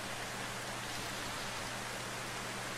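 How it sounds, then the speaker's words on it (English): Steady rainfall in The Final Station video game, a soft, even hiss of falling drops with no pauses and no voices over it, heard at low volume. "And it's raining now."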